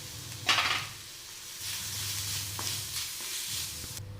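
Grated coconut hits sautéed onions in a hot frying pan for a Kerala thoran, bringing a sudden burst of sizzle and then steady frying crackle with scraping stir strokes, close and without talk.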